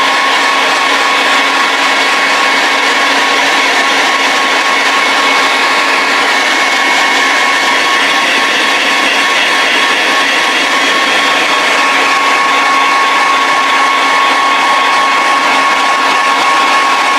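A hair dryer blows a steady, loud, unbroken whoosh with a tonal hum, running continuously at close range while drying a wet paint job on a 1/6 scale vinyl figure kit.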